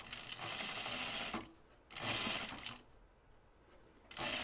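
Rapid mechanical whirring of a sewing machine stitching a caftan bodice panel with gathers, in three short bursts separated by brief pauses, close and fairly quiet.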